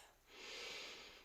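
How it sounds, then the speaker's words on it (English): A long, deep breath drawn in during a strength exercise class, a breathy hiss that swells and holds for about a second, close and fairly quiet with no talk over it. "Take a nice deep breath."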